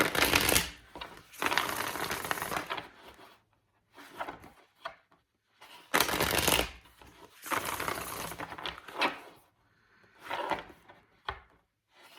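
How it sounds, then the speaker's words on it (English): Bursts of tarot cards being shuffled, crisp riffling and rustling repeated several times with brief quiet gaps between rounds, close and moderately loud. "Three more shuffles for Cancers."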